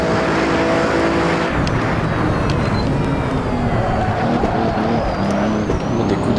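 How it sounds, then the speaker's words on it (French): A Bugatti Chiron's engine revving hard under acceleration in the racing game Assetto Corsa, a loud, continuous roar with rising and shifting pitch, with tire noise underneath. "Des coups d'accélération."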